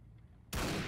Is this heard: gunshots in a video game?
yes